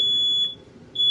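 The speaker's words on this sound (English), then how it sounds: "The fire alarm is having a fight with me in here" A smoke detector gives a loud, piercing high-pitched beep, stops briefly, then starts beeping again, with no talk.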